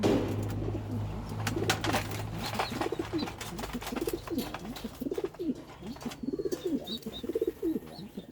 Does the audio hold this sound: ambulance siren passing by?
no